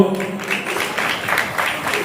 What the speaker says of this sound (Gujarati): તાળીઓથી વધાવજો.